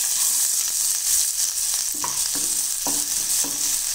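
Chopped onions frying in hot oil with popped mustard seeds, a loud continuous sizzle close up with several distinct scraping stirs of a spoon against the pan.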